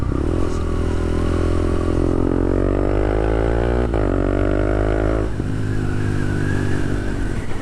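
A Honda CB300F motorcycle's engine and exhaust rev up close and loud, the pitch rising and dipping through several sustained throttle swells.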